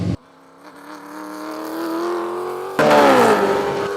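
A Dodge Viper TraNZam race car engine climbs in a rising, strongly harmonic howl, then jumps abruptly to a louder, harsher roar that holds and slowly falls, close and powerful.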